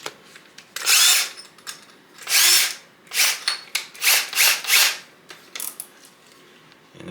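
A step drill bit cuts through aluminum on a custom fuel cell surge tank in repeated loud bursts of whining, chattering drilling, each a second or less, with short gaps between them and no talk.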